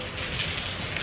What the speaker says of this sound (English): it's been raining for at least an hour